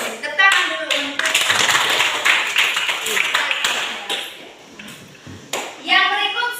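Classroom children clapping their hands in scattered, uneven bursts with sharp individual claps, mixed with chatter and young voices, fading mid-way and then picking up again.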